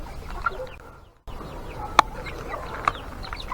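Chickens and chicks cluck and peep around grain being scattered on a farmyard, soft clucks and a few sharper calls close by, with a short silent gap early on.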